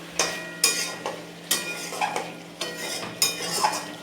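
A spoon scrapes through potatoes and spices in a cooking pot while goat curry is made, giving about eight distinct scraping strokes at an uneven rhythm, close and clear, with no voices.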